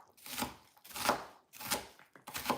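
A knife chops onions on a cutting board during home cooking, four quiet evenly spaced strokes, close and alone.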